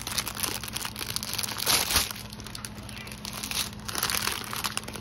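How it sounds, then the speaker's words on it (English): A plastic bag wrapped around diamond painting beads crinkles softly and close by, in irregular rustling bursts with a slightly louder crunch near the middle. "our diamonds are wrapped in another plastic bag"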